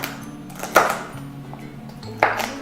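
A knife chops through the ends of a vegetable stalk on a cutting board, giving two sharp, separate cuts spaced well apart over a quiet background.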